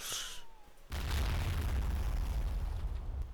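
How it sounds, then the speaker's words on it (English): An edited video game commentary cuts from a brief high-pitched bit into a sudden, very loud explosion effect whose deep, roaring rumble holds at full strength for over two seconds. "I meant to make it that loud, by the way, that explosion"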